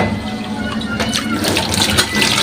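Kitchen tap running steadily into a sink while dishes are washed up, a continuous close hiss and splash of water with small clatters mixed in.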